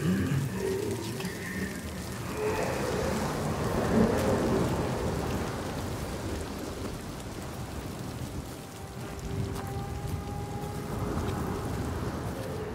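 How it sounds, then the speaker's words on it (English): A storm in the video game Hellblade 2 keeps up steady heavy rain with deep rolling thunder rumbling underneath, a continuous loud wash throughout. "He brings the storms with him."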